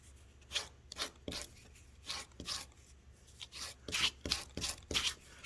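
A pastel stick is dragged and turned at an angle across sandpaper to clean its tip, giving a series of short, close, dry scraping rasps in an uneven rhythm with brief pauses between strokes.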